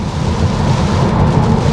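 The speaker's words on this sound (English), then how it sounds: "This is a good rain." Rain pours on a car driving in Detroit, Michigan, a dense, loud, steady roar and hiss of water on the body and road, with road rumble underneath and no talking.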